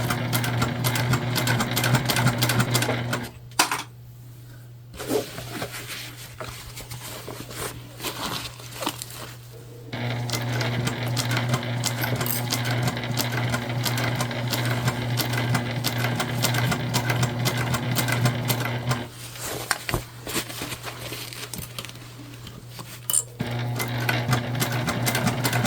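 Sewing machine top stitching a shoulder bag made from recycled material, a steady close motor hum with rapid needle chatter running in long stretches, stopping briefly twice before starting again.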